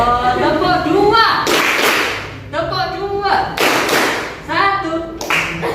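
Children in a classroom do a rhythmic clapping game during an Islamic prayer lesson: bursts of sharp, close claps alternate with shouted chanting voices, loud and repeated in regular groups.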